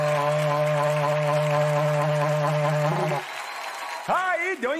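A berrante cattle horn is blown with a long, steady buzzing tone that breaks off after about three seconds, followed by whoops and voices from a studio audience.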